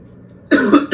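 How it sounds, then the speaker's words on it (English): A single person coughs loudly and abruptly after a near-silent stretch, one harsh burst followed by a second shorter one, close to the microphone. "we're gonna have to start a cough count."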